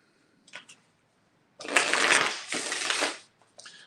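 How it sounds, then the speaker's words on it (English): A deck of cards is riffled in two quick, crisp bursts, followed by a brief softer riffle, close and clear in a quiet room. "let's shuffle these really good."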